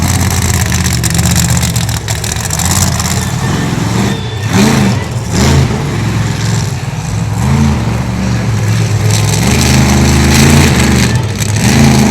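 A loud, sustained engine roar from an outlaw drag racing vehicle attempting a wheelie at a motorsports event in Miami, Oklahoma, with the pitch rising and falling through continuous revving.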